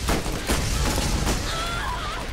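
Rapid SMG gunfire in the Borderlands co-op shooter, dense bursts of shots loud and close, with a faint whistling tone trailing near the end.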